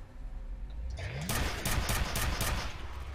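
Gunfire in the first-person shooter video game FEAR: after a second of low rumble, a quick run of loud, sharp shots cracks out close by in an irregular burst sequence, with a voice faintly beneath.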